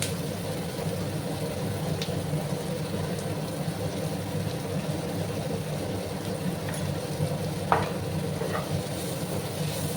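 Spiced tomato masala with Kashmiri chilli powder and salt is stirred and sautéed in a pan. It gives a faint, steady sizzle, with a few light spoon scrapes and clicks.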